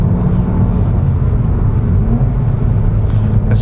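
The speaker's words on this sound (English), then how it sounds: "I had to do a downshift. Heel toe downshift." Subaru WRX engine during a heel-toe downshift, a steady loud low rumble from inside the car with no clear rev blip standing out, continuous throughout.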